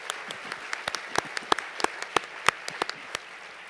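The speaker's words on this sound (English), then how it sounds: "Give them a great round of applause." Sparse applause from a small audience at a public health section's 100th anniversary event: a few distinct, fairly sharp claps in an irregular rhythm over about three seconds, fading to quiet room tone.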